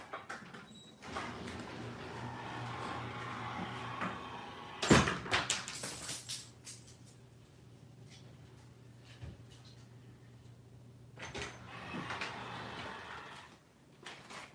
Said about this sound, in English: I needed to open up that garage door anyway.